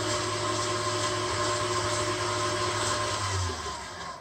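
A handheld electric mixer whirs steadily as it whisks plain 0% fat Greek yogurt into low-fat blueberry muffin batter, a close, continuous motor drone that eases off near the end.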